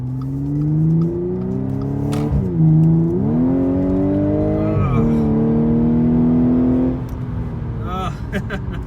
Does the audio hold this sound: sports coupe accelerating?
yes